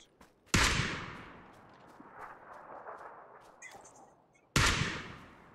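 Two loud, sharp gunshots from a distant rifle in PUBG crack about four seconds apart, each trailing off in a long echoing tail, with faint background game sounds between them.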